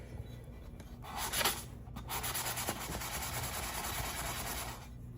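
Metal is sanded by hand with 400-grit finishing sandpaper, giving a soft, continuous scratchy rubbing with back-and-forth strokes and a few louder swipes, close and with no talk.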